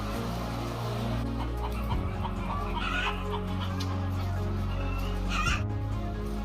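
Caged chickens in a poultry farm make a dense chorus of clucks and calls over a steady mechanical hum, with occasional louder squawks and crowing close by, and a faint voice now and then.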